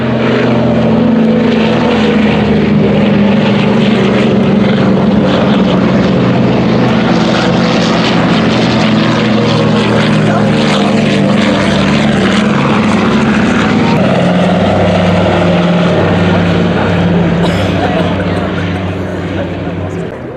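Propeller aircraft taxiing at the Duxford Flying Legends airshow, a loud sustained engine drone with throbbing propeller beat that shifts pitch midway, heard under announcer-style talk over a public address.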